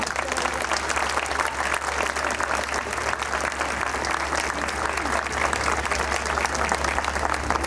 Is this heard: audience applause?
yes